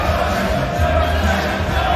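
A crowd at a Mosconi Cup pool match roars in a dense, sustained wash of cheering that fills the arena.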